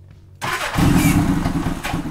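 A Honda Goldwing motorcycle engine cold-starting without choke: a brief starter crank, then the engine catches and runs loudly and roughly at close range, with no talk.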